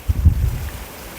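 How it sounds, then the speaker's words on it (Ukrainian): A brief gust of strong wind thumps and rumbles against the microphone in a garden by a mulberry tree, then settles into a low, steady rush. "дуже сильний вітер"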